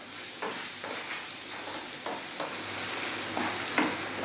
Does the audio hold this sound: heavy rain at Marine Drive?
no